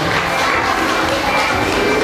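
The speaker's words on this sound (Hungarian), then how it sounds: "Kérek egy nagy tapsot" Applause at a primary school masquerade ball, a steady dense clapping from a crowd that fills the whole stretch without a break, with faint voices mixed in.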